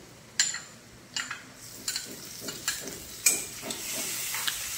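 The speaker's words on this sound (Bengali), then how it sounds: "আদা রসুনের কাঁচা গন্ধটা যাতে চলে যায় একটু ভেজে নেব" Ginger garlic paste fries in oil with browned onions, a steady sizzling hiss broken by sharp spatters and stirring clicks, close and moderately loud with no talking.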